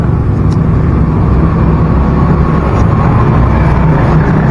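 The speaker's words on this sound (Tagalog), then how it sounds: "maingay yung mga tricycle dito sa amin kasi nakatutok kami sa kalsada" Tricycles pass along a road right outside, a loud continuous engine rumble with a wash of traffic noise that never lets up.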